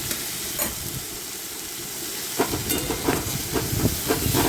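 Potato pieces fry in hot oil with salt and turmeric, giving a steady close sizzle with intermittent stirring scrapes and clatters that grow busier toward the end.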